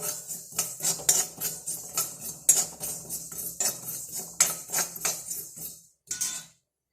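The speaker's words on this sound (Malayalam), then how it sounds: "കരിഞ്ചീരകം ഇത് നല്ലപോലെ ഫ്രൈ ആക്കി എടുക്കണം" A metal spoon stirs black cumin seeds dry-roasting in a pan, giving a rapid run of repeated scraping clinks and taps against the metal that stop abruptly near the end.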